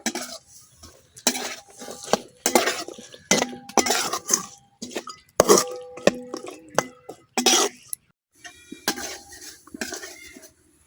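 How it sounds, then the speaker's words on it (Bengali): Potatoes sautéing with dried fish in a pan give a series of close, uneven metallic scrapes and clinks from a stirring utensil, separated by short quiet gaps. "এই জন্য এখন আমি শুটকির সাথে আলুটাও কিছুক্ষণ কষায় নেম।"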